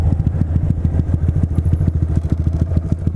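Honda Grom motorcycle fitted with a Yoshimura exhaust idling as it comes to a stop, a steady low, loud engine putter with rapid regular pulses and light clatter throughout.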